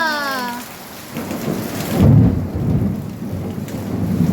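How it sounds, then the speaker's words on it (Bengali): Heavy rain pours steadily while a deep rumble of thunder rolls in about halfway through and lingers under the downpour. "খুব মেঘে ডাকছে"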